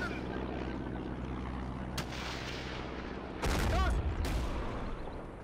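A Pz.38 light tank's machine gun lays down suppressing fire on a village in Steel Fury Kharkov 1942, sharp bursts cracking over a low rumbling battle backdrop, with a heavier volley near the end.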